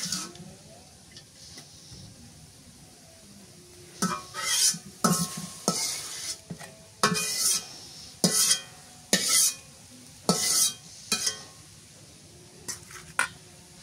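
Boiled danga greens being stir-fried in oil in a pan: after a quiet start, a spatula scrapes and knocks against the metal in a run of bursts over a faint low sizzle, close by, with no talking.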